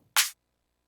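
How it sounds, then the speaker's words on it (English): A single short snare drum sample triggered in music production software, one bright, noisy hit with a quick decay, heard alone and close with no talking. "I don't know if this pitch of snare is going to be the call."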